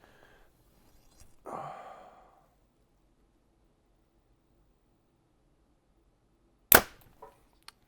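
A Hoyt RX5 compound bow at 70 pounds with a 30-inch draw looses a 350-grain arrow: a soft rustle, then one sharp, loud crack with a short ringing tail amid quiet.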